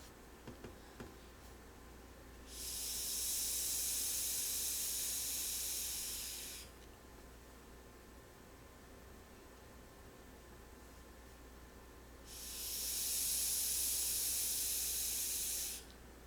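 HEATVAPE INVADER MINI e-cigarette fired at 50 watts with airflow wide open: two long sizzling hisses of vapour, each lasting about four seconds, close up, separated by quiet.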